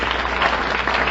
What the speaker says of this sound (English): Plumbers always get applause here